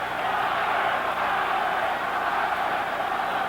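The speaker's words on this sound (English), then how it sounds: "The cheer for Robert in the background." A boxing crowd at a 1991 fight between Robert Quiroga and Kid Akeem keeps up a steady, dense roar of cheering for Quiroga, continuous and fairly loud throughout with no clear breaks.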